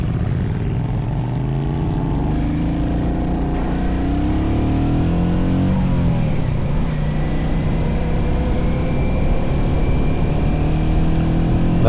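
A Royal Enfield Continental GT motorcycle riding past on a club rideout, a loud steady engine drone heard from another moving bike, with pitch shifting as it passes nearby.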